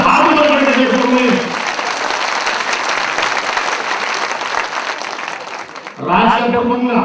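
Loud applause from a crowd at a Gujarati lok dayro folk music gathering during a religious yagna festival, a dense burst of clapping that runs for about five seconds between stretches of amplified talk.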